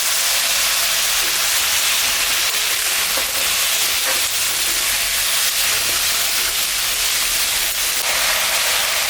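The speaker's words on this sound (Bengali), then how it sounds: "এটা দিয়ে আমি এখন ঝোল রান্না করবো।" Ash gourd and potato simmer for a fish curry in a home pan, giving a steady, loud bubbling hiss with no pause and faint crackles scattered through it.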